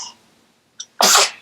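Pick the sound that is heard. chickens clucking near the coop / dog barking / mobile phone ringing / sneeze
sneeze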